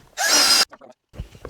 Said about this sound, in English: Now I can just go on the back side and countersink.